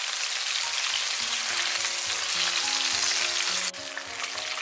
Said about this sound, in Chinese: 开中小火给它慢炸，炸至定型，我们再用筷子给它拨动一下